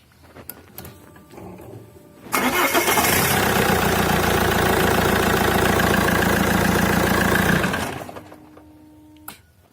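An Alfa Romeo 156 engine cranks and catches with a loud burst, then settles into a steady, close idle for several seconds before being switched off, with faint clicks before and after.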